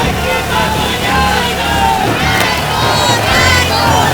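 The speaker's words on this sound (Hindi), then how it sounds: "ये भीड़ आपको जो दिख रही है, ये मूल निवास और भू कानून की मांग को लेकर रैली निकाल रही है।" A large crowd at a street rally demanding justice for Ankita Bhandari, along with native domicile and land law demands, fills the air with steady cheering, shouting and babble, loud and continuous throughout.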